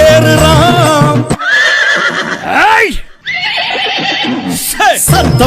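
Horse neighs and whinnies ring out over a Tamil devotional song for the deity Karuppasamy, with singing and music continuing throughout and a few loud, descending whinny calls standing out in the mix.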